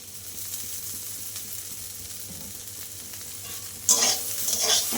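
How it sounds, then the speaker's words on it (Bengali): Water spinach greens sizzle steadily in a pan as raw oil is drizzled over them and they are stirred, with louder scraping and crackling bursts near the end. "অল্প একটু নাড়াচাড়া দিয়ে নামাবো তো তার আগে আমি একটু কাঁচা তেল ছড়িয়ে দিচ্ছি"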